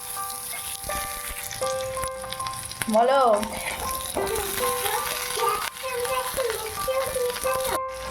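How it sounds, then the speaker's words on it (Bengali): Cauliflower fries in hot oil in a home kitchen pan, giving a soft continuous sizzle with occasional rattles of stirring, while a voice speaks briefly over it. "এই যে এখানে ফুলকপি ভাজা হচ্ছে"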